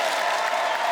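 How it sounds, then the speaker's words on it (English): A studio audience at a comedy game show claps loudly in a brief, dense burst of continuous applause from many hands, heard alone. "Make her feel loved for about 30 more seconds by clapping loudly."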